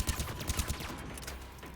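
Rapid video game gunfire crackles in a quick string of shots at the start, then trails off into muffled background noise over less than two seconds.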